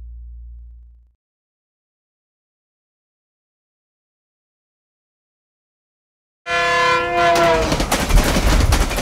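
A train rolls on rails after a long silence, entering loud and close with a tonal horn-like sound and steady rumbling clatter that builds toward the end.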